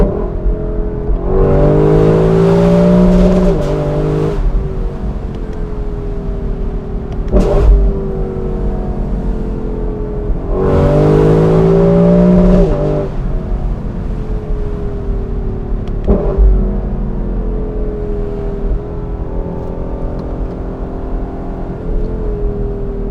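A 2021 Lexus LC 500 Convertible's V8 revs up hard through paddle-shifted gears on a night drive, rising engine notes broken by sharp shift cracks, loud and continuous from inside the car.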